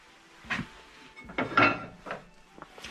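Loading a small 7 kW Godin wood stove through its top opening in a workshop: several separate metallic clanks and knocks of the lid and fuel going in, close and moderately loud, with quiet gaps between.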